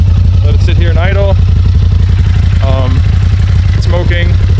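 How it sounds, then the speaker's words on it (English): A 2017 Polaris RZR XP Turbo with a newly installed water pump idles loudly and steadily with a low, even throb, while a person talks over it in several short phrases. "Now I'm starting it back up. Let it sit here and idle."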